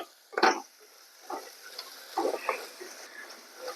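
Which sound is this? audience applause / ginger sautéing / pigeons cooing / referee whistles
ginger sautéing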